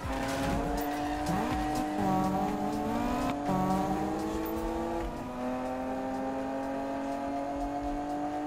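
Video game car engine with high revving harmonics and repeated tire squeals and skids, loud and continuous throughout, with no voices over it.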